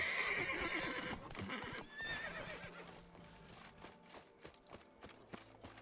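Roach, Geralt's horse in The Witcher 3, neighs loudly at the start, a whinny that fades, then hooves clip-clop in irregular steps that grow quieter toward the end.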